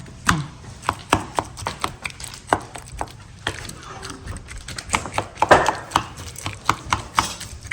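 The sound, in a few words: chopping onion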